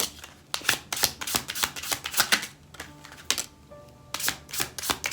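Tarot cards shuffled by hand make rapid papery riffles and flicks in uneven bursts, close and fairly loud, with short pauses between flurries and no talk.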